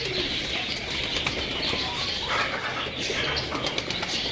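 Pigeons coo and flutter nearby at a breeder's loft, a dense steady bed of soft bird calls and wing sounds filling the whole stretch without a break.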